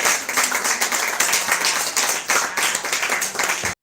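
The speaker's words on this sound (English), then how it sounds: "And you can clap now." Press-conference audience at the British Urban Film Festival clapping, fairly close and loud with slightly uneven pulses, before stopping abruptly at the end.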